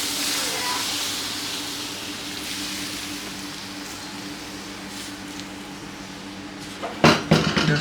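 Water poured over chickpeas in a hot cooking pot gives a steady, fairly loud hiss of steam that slowly fades, followed by a few clanks of cookware at the end.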